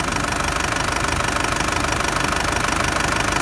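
A 2004 Isuzu D-Max Hi-Lander Cab4 with a 3.0 Di-Turbo diesel engine and automatic gearbox idles up close, a steady, dense diesel clatter with an even knocking rhythm and no voices.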